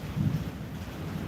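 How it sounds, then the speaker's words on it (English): Low rolling rumble of artificial thunder from a thunder generator installed for atmosphere, swelling early then settling into a steady distant grumble with a faint rain-like hiss, no voices. "that's my thunder generator that I installed for atmosphere."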